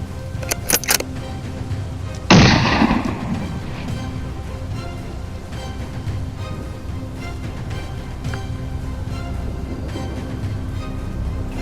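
A single rifle shot fired at a wild boar on a brushy hillside ridge by a farm: one sharp, loud report that decays quickly into a steady outdoor background.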